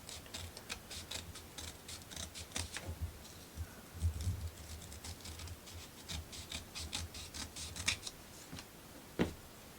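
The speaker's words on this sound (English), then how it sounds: "Let me get actually the big scissors out for this." Large scissors snip repeatedly through craft material for a Christmas book nook, giving quiet rasping cuts in an uneven rhythm with brief pauses, close and fairly faint.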